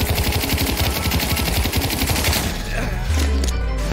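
Rapid automatic gunfire in the VR shooter Pavlov rattles out in a dense, loud burst of evenly spaced shots for about two and a half seconds, then stops as muffled voices and movement take over.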